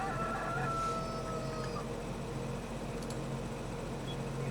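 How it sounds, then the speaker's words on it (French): Chickens cluck and call from a henhouse in a farming video game, a few clucks and faint crowing-like notes over a steady background hum, with no talk. "donc là j'ai mon petit poulailler, vous voyez, j'ai mis des poules"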